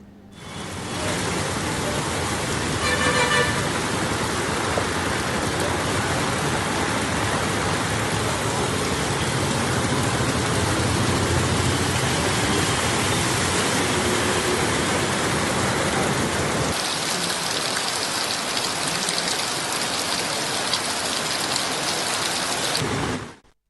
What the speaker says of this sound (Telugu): వరంగల్లో భారీ వర్షం పడుతోంది.